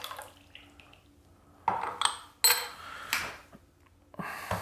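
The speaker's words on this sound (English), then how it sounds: "So I'm going to pour it into this one just so we can keep track" White tea from a 2018 Cha Nong Hao Meng Song Village tea cake poured into a cup, with soft liquid trickling and light clinks of porcelain, fairly quiet and close.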